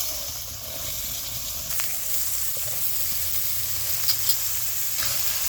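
Ridge gourd goes into hot oil and spice masala and sizzles steadily, with a constant hiss and occasional stirring scrapes close by, and no talking.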